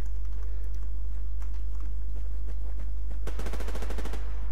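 Automatic gunfire in the online shooter Survarium, with scattered shots early on, then a loud rapid burst of closely spaced rounds near the end.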